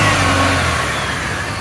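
Car engine with a misfire revved by pulling on the throttle body at the accelerator, a brief, loud, close engine roar that fades slightly with no talking.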